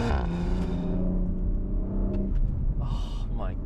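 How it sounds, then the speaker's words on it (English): An Audi RS4 Edition 25 engine revs, its deep rumbling note rising and then falling away as the car pulls off, close and loud, with a brief burst of higher whir near the end. "these cars just sound so bloody emotional. Listen to it."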